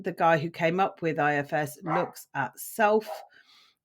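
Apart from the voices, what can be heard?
None of the usual background noises is heard.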